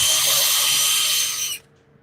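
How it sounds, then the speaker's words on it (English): A power drill pre-drills holes into wood, whirring loudly and steadily close by for about a second and a half before cutting off abruptly into near silence. "Now I can pre-drill holes"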